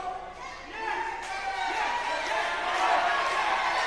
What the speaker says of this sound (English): Yes, this crowd getting behind Wilder.